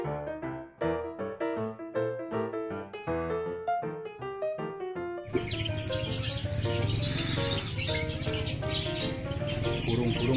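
Caged birds at a bird kiosk chirp and whistle in clear melodic calls, then a louder, denser chorus of many birds singing together takes over and continues to the end.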